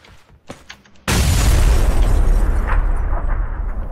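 Grenade blast in the PUBG battle royale game, a sudden loud close boom that cuts in abruptly and rumbles on heavily before slowly tailing off, after a few faint clicks and knocks.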